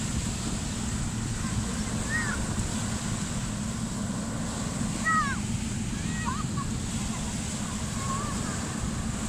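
Ocean waves roll onto a beach where children play in the sea, a steady, close rush of surf mixed with wind, with brief distant children's calls over it.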